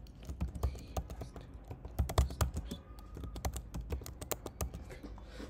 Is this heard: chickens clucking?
no